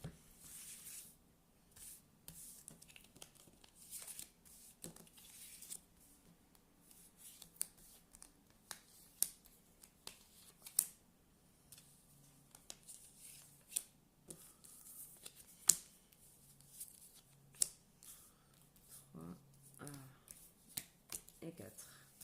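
Tarot cards being cut and shuffled at a table, with soft riffling, taps and papery slaps scattered irregularly under a voice speaking French, some sharp clicks standing out.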